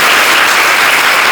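Dense, loud clapping from a congregation at a devotional gathering, a brief continuous burst of many hands without talk.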